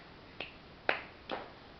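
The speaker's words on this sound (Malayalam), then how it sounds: "clap clap baby clap" A baby claps its hands three times, each clap a sharp, quiet smack with a short gap in between, against a soft room hush.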